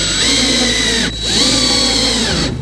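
A power drill drives 1/2-inch flathead screws into a cabinet panel, loud and close, whining up in pitch, pausing briefly, then spinning up again for a second screw.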